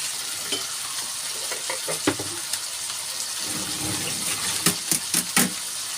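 Onions and long chili peppers frying in a pan, a steady sizzle with the scrape and clatter of stirring growing busier toward the end, close with no talk.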